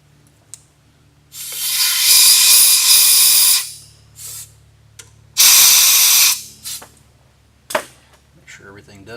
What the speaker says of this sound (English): we'll shoot a little WD-40 on this.